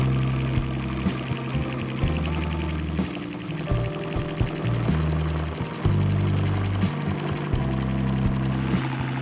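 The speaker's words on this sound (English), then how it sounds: "It's quite a violent engine." A Lego boxer engine, taped to a desk, runs continuously with a steady, rapid mechanical chugging and whirring, fairly loud and vibrating violently, with small shifts in pitch and rhythm throughout.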